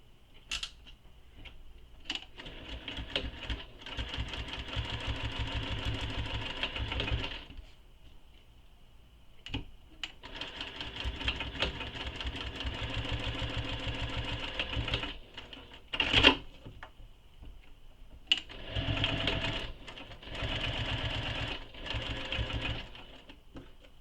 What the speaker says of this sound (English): then we're going to top stitch these using the seam allowance given in the pattern